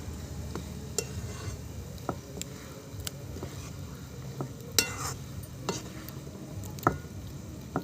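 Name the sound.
sautéing eggplant bharit with salt and spring onion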